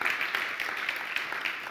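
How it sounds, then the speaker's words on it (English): An audience claps for event organizers at a corporate startup gathering, a brief, steady patter of applause, fairly quiet and slightly distant. "So a round of applause for our friends here"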